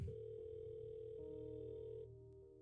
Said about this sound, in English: I hit call and slowly place the phone up to my ear